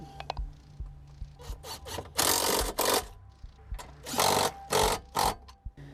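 Fasteners being tightened by hand during an evaporator replacement on a Lexus IS300, with close, repeated bursts of ratcheting and scraping metal in short uneven strokes and brief pauses between.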